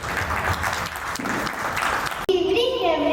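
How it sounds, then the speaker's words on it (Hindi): Audience at a sports and recreation club event giving a burst of loud applause to welcome a performer, cut off abruptly, followed by a brief voice. "आइए जोरदार तालियों से स्वागत करते हैं"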